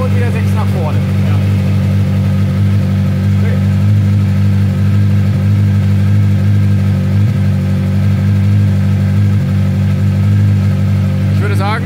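A 250 hp buggy engine runs loud and close with a steady deep rumbling drone throughout, with slight rises in revs, while people talk over it.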